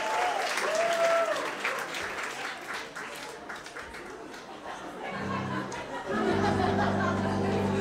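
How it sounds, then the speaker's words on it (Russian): Audience applause at a televised show, dense clapping with cheering and crowd chatter that thins midway, then a loud music bed comes in under the continuing applause. "Ваши аплодисменты!"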